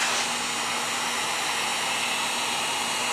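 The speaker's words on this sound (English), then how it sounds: "what I want to do is hit it with the heat gun just a little bit" A heat gun blows in a steady, loud, close whoosh over painted styrofoam carved as faux stone for a Victorian fireplace, a constant airflow with no pauses.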